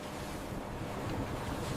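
Sea waves break against a fishing boat's rail in building wind, a continuous rough wash of surf and gusting wind noise filling the clip with no voices.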